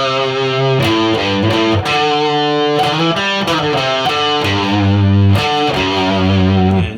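Distorted electric guitar plays a riff slowly, a loud, close run of picked notes and sustained chords with vibrato and slides, steady and alone with no talk.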